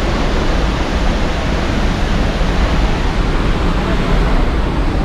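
Kheri waterfall in Uttarakhand pours with a loud, unbroken roar of rushing water, dense and close, steady from start to finish.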